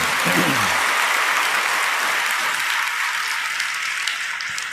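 Loud, dense applause from a church congregation fills the whole stretch, steady and sustained without a break.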